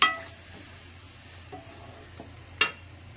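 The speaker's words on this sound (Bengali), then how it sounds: "আদা রসুনটা ভালো করে মিক্সড করে নেবো" Ginger-garlic paste being stirred into onion paste in a pan while cooking doi katla, with a soft steady sizzle and a couple of sharp spoon scrapes against the pan, close and alone.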